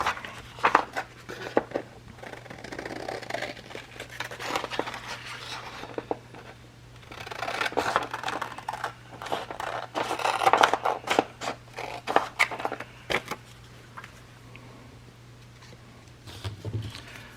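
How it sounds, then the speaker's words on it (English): Scissors snipping through paper while craft tags are cut from scrap, coming as irregular close rustling, scraping cuts with short pauses, fairly faint and with no talk over it. "Just folding that over where I need to cut it."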